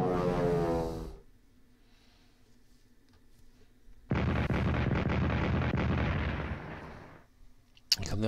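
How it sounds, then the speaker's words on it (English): Artillery fire booms in the WWI strategy game Strategic Command World War I: a loud blast that cuts off abruptly, a quiet lull, then a long rumbling barrage lasting several seconds, ending with a sharp crack. "Come the artillery, but against the British."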